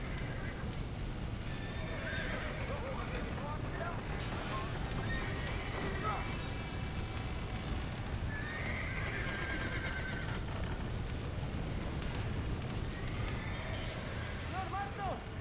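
Horses neighing and whinnying inside a burning barn in the Red Dead Redemption video game, with hoof clops amid a steady roar of background noise and game voices.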